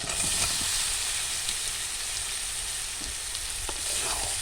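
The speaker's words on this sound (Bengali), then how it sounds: "এবার দিয়ে দেবো সিদ্ধ করে রাখা আলু।" Boiled potatoes tipped into oil-fried spice masala for aloo dum sizzle loudly and steadily, a dense hissing fry with faint scraping of stirring, close by and without speech.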